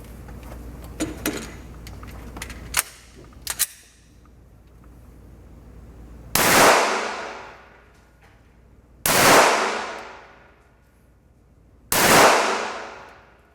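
Three loud, sharp gunshots from a Glock 19 handgun ring out a few seconds apart, each followed by a decaying echo, after some light clicks and handling noises.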